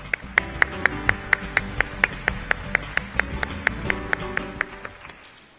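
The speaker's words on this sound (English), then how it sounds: "please welcome the mayor up on the podium with a big round of applause" Audience applause greeting the mayor at the 2015 ICLEI world congress opening ceremony in Seoul: steady rhythmic clapping with sharp regular hand claps over a crowd bed, fading out near the end.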